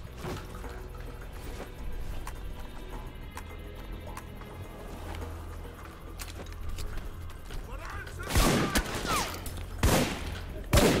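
Gunfire from the video game Alpha Protocol, a few sharp shots clustered near the end amid a busy game soundscape with music and effects running underneath.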